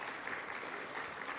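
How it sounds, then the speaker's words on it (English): A conference audience claps briefly, giving a faint, even patter of applause from a crowd in a hall. "give me a round of applause"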